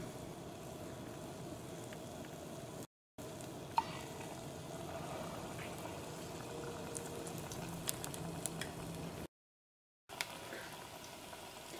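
Spoonfuls of batter for a bread snack fry in hot oil, a soft, steady bubbling sizzle heard up close with two brief silent breaks.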